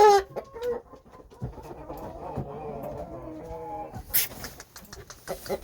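Shamo hens, a game-bird breed, cluck in short, close bursts, mixed with other fowl sounds and a brief high squawk near the end, under quiet background noise.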